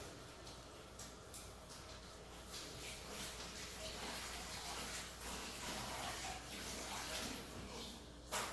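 Hands being washed under running tap water, a steady faint hiss of flowing water with small splashes throughout.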